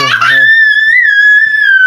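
A child's high, sustained shout during a playful catching game at home, loud and close, holding one strained pitch for nearly two seconds after a brief giggly burst.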